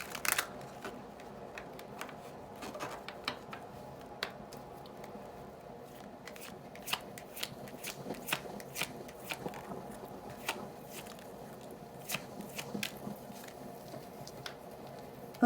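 Tarot cards are shuffled and pulled from a deck, giving soft irregular riffling and flicking clicks with sharp little snaps scattered throughout, close and quiet with no talking.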